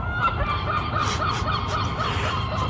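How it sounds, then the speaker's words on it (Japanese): In Porto in August, a bird with a dog-like call gives a rapid series of honking, barking cries at moderate distance, repeating steadily over a faint background hum. "犬みたいな声で泣く鳥に起こされました。"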